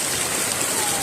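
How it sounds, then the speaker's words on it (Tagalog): Heavy rain pours down in a steady, dense hiss during a flood watch outdoors, continuous and enveloping with no break. "Lakas pa ng ulan, no? Walang tigil."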